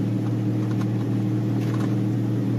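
An old Corvette V8 rumbles steadily at low revs on a freeway ramp with a new clutch, a deep continuous throb that stays loud and close throughout with no talking.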